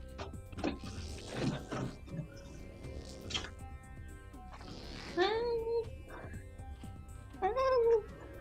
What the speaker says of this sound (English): Whose cat is making noise?